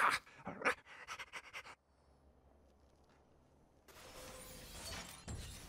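Krypto the Super Dog in LEGO Batman 3: Beyond Gotham pants in quick short breaths at the start, followed by a shattering crash, then near quiet and a rising hiss of game noise.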